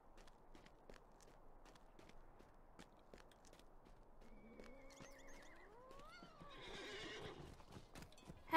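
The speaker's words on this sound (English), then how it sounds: "That's a horse." A horse neighs and whinnies in the fantasy online game Lord of the Rings Online, a rising, wavering call over soft clip-clop hoofsteps, fairly quiet and distant with no talk.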